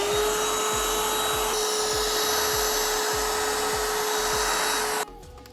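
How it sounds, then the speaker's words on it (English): An electric drill bores a hole through fiberglass, giving a loud, steady high whine over a pulsing low rumble for about five seconds before it cuts off abruptly. "Hopefully I drilled the hole to the right size."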